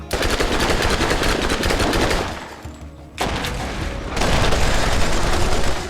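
Gold pistol in Borderlands on Nintendo Switch fires in long, dense bursts like a submachine gun, loud and continuous with a brief lull midway before the rapid shots resume.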